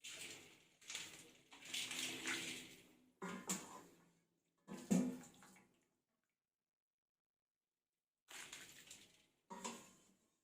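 Cold water poured over freshly boiled spaghetti noodles to cool them for carbonara, heard as a few splashy, rushing bursts near the mic, then a pause before two shorter pours.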